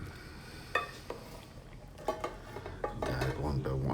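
A spoon stirs a thick, sticky rice mixture for Filipino biko in a pot, with scattered scraping knocks and soft clinks over a low background hum, close and moderately quiet.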